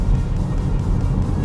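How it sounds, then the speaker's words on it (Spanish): A BYD E3 electric hatchback accelerates hard in Sport mode, heard from inside as a steady loud low road and motor rumble with no distinct whine, continuous throughout. "Ahora voy a comprobar la aceleración, lo pongo en modo Sport."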